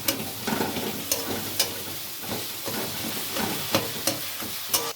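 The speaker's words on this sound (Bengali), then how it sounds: "এবার মশলাগুলো টমেটোটার সাথে খুব ভালো করে কষিয়ে নিচ্ছি।" Spices fried with tomato in a pan give a steady, close sizzle and hiss. Scraping stirs come in repeatedly, some sharp and some soft, and no one talks over the frying.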